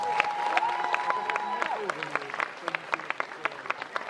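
Audience at a cosplay contest in Nantes applauds a League of Legends costumed contestant, a dense crowd clapping that starts full and thins into scattered individual claps, while a sustained musical tone and voices sit underneath.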